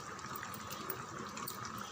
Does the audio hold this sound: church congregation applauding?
no